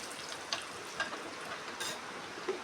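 Soft, steady sizzle of small dry red chilies, cut in pieces, frying in oil, with a few sharp pops and light clicks scattered through.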